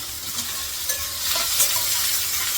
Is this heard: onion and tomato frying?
yes